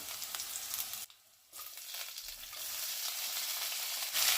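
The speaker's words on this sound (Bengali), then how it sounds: "এবারে আমি আলু কুচিটা দিয়ে দেব।" Chopped potatoes fry in hot oil for a spring onion curry with cumin, garlic and chili, a close steady sizzle that drops out briefly near the start, then returns and continues strongly without talk.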